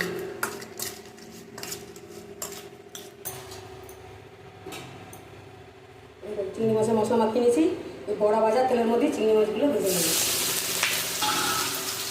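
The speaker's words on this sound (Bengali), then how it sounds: "এইভাবে মশলা মাখিয়ে চিংড়ি মাছটা ভাজলে বেশ খেতে ভালো লাগে" Spice-coated prawns frying in a pan, heard first as scattered ticks and clinks of utensils, then a louder sizzle as stirring begins, with a voice talking over the second half.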